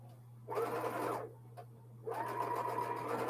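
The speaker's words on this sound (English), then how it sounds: "my sewing machine start and then stop" A sewing machine runs in two short bursts of rapid mechanical whirring, stopping briefly in between, over a low steady hum.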